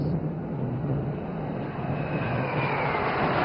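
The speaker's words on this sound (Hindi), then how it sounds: "फॉल्क्रम नामरे प्रसिद्ध MiG-29 के प्रचंड गर्जन सहित निजर उपस्थिति जाहिर करुछि।" MiG-29 jet fighters pass over a Navy Day display in Kerala, a steady, broad roar of jet engines that swells slightly as they go by, heard at a moderate distance without talk.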